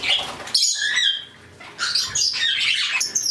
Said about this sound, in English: Maybe that's the canary, Jingles.